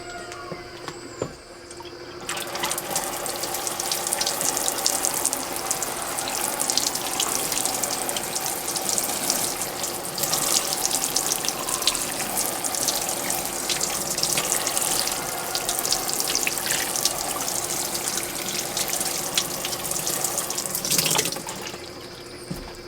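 Running water showering potted plants on a porch, a steady loud hiss and splash that starts after a short pause and continues evenly for about twenty seconds before cutting off, with no talking.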